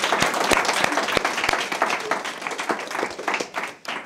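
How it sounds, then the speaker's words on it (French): Applause and clapping break out from a studio audience at a French comedy show as two guests are welcomed, dense and lively at first with a few sharp claps standing out, thinning and fading near the end. "Vous pouvez les applaudir."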